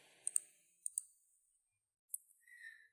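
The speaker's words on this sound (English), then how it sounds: "Then we click on products and then we click on MATLAB" Computer mouse clicks while navigating a website: a few faint, crisp clicks, two quick pairs then a single one, in a quiet room with no talk.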